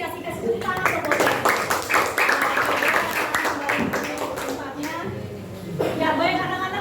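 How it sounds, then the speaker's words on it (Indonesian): A classroom of children claps and applauds after a lesson, steady mixed clapping with children's voices and a teacher talking over it, fading briefly before rising again. "Apa-apa, tapi tetap kita apresiasi kasih tepuk tangan buat kita."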